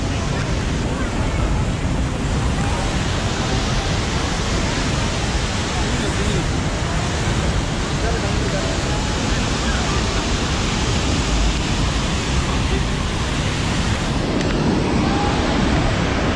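Tegenungan Waterfall in Bali roars as a steady, loud, broadband rush of falling water that fills the whole scene without letting up. A faint voice may sit under the water noise.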